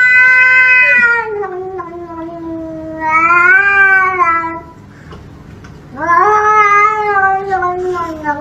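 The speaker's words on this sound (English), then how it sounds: "Kiss your cat and see how they react." A cat lets out three long, drawn-out meows in a row, loud and close, each rising and falling in a whiny caterwauling tone with short pauses between them.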